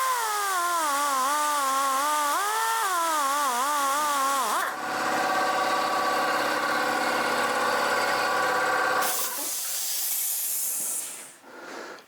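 An air compressor rated at 6.2 SCFM at 90 psi runs loud and close, first a steady whining motor tone that wavers in pitch, then a broad rushing hiss that carries on for several seconds before tailing off.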